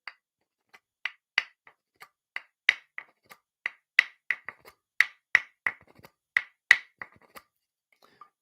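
A wooden frog percussion instrument is played close up, giving a steady, lively run of dry, sharp wooden clicks with nothing else around them.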